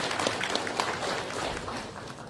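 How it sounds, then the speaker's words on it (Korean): A crowd at a Korean political event applauds the association chairman, giving a steady wash of clapping that stays loud throughout. "다시 한번 오세희 회장님께 큰 박수를 부탁드립니다"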